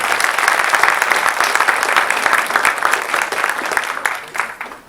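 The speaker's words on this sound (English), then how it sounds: "We give you a round of applause." Audience at a school board meeting applauds steadily for about five seconds, a dense, fairly loud round of clapping that thins slightly before fading at the end.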